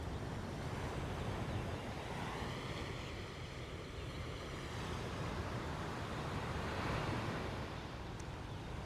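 Steady broadband wash of surf on a Hawaiian shore, continuous and even with a soft rumble and slight swells in loudness, heard from some distance through an open window at night with faint wind, no voices.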